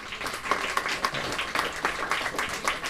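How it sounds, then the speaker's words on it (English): An audience at a Mind Sports Olympiad award ceremony claps for the winners, a steady round of many hands with distinct sharp claps standing out, fairly close and unbroken. "Let's call another round of applause for Ricardo and Andres,"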